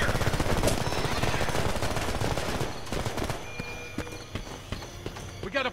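Gunfire in the war shooter Homefront: rapid automatic bursts roar loud and dense at first, then thin into scattered sharper shots and impacts, with a voice shouting over the shooting.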